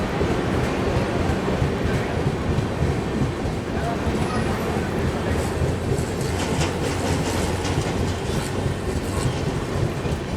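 The Falaknuma superfast express, Secunderabad to Howrah, runs at speed on the main line, a loud continuous rumble and clatter of wheels on rails heard close from on board.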